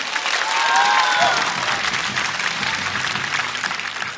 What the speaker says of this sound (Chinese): 再次掌声送给 Harry